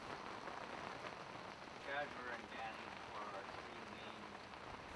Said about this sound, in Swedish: Vi sidder tørt og lunt med regn, der trummer hyggeligt på taget af kahytten.